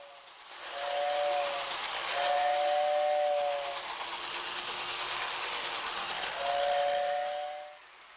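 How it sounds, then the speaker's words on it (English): A Lionel toy train blows a two-tone steam whistle in three sustained, mournful blasts over a steady hiss of steam. "You hear a two-tone, mournful whistling sound."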